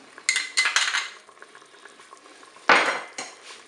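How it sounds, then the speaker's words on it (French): A spoon stirring a cream, cornstarch and mustard sauce in a Cookeo pot, with a few distinct metallic scrapes and clinks against the pot, the loudest near the end, between quiet pauses. "Je vais bien sûr mélanger."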